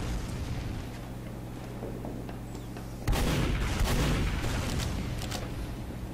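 Gunfire from a scout in a first-person shooter game, with a sudden loud burst of shots after quieter ambient game sound, followed by several sharp cracks and echoing blasts.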